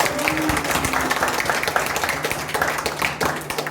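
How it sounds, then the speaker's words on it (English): Audience clapping at a dance workshop in Jangipur, a steady burst of applause from a crowd close by that holds at an even level throughout. "Huge round of applause, guys."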